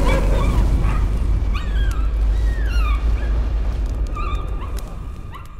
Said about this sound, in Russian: Собачку по что обидели?